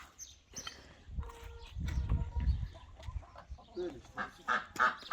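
Chickens cluck and squawk in a busy, uneven chorus, some calls close and others farther off, over outdoor background noise.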